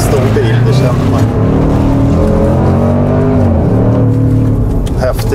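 Range Rover Sport SVR P575 engine accelerating hard, a loud, continuous rising roar with rich rumbling harmonics heard from close by, steady throughout with a brief dip midway.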